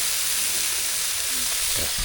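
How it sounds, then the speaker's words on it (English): Food sizzles and fries on a barbecue outdoors in cold, rainy weather in Wales, a steady close hiss with faint clinks and a short tonal squeak near the end. "It's sizzling nicely,"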